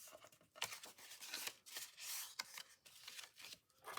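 Scissors snip a divot off the top of an index card, giving several quiet, close crisp cuts and paper rustles in quick irregular succession.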